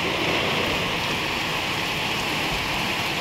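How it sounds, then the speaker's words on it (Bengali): Rain that has eased off after a heavy downpour falls outside a window just opened, a dense steady hiss of drops with no pauses or voices. "চলো দেখি খুলে কিরকম বৃষ্টি হচ্ছে"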